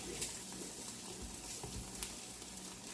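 Egg, cheese and potato omelette frying in a pan on high heat, giving a faint, steady sizzle with a few soft pops and scrapes.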